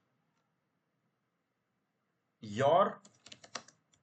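A handful of quick, soft keystrokes on a computer keyboard follow a brief spoken word in an otherwise silent room.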